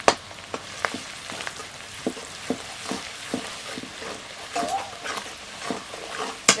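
Ginger and garlic browned in hot oil sizzle steadily with salt, chilli powder and turmeric going in, while a spatula clicks and scrapes against the pan in a regular stirring rhythm, close and moderately loud.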